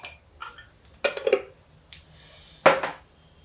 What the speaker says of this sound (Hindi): कढ़ाई में हम डाल देते हैं जीरा।